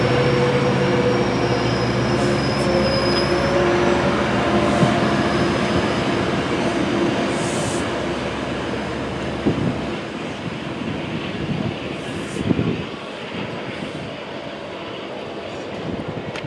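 A Metrolink commuter train rumbles past on the rails, loud and steady at first with some wheel squeal, then fading toward the end as wind buffets the microphone.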